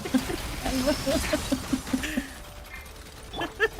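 Dogs in a video game whimper and yip in short, wavering cries that repeat through the first half, with game effects and some voices mixed in.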